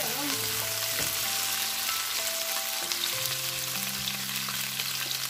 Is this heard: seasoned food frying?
yes